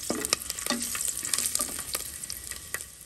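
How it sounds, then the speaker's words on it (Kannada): Garlic cloves frying in hot oil with bay leaf, a piece of cinnamon, two cloves and a spoon of fennel seeds, a close crackling sizzle broken by sharp spoon scrapes and clinks against the pan. "ಸ್ವಲ್ಪ ಫ್ರೈ ಆಗಲಿ ಬೆಳ್ಳುಳ್ಳಿ"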